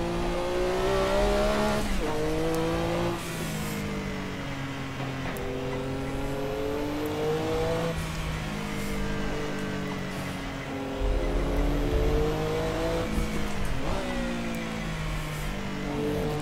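Porsche 962C race car engine in Assetto Corsa on the Nordschleife, loud and continuous, revving up through gears with repeated shifts and rises in pitch, brief tire noise, no talk.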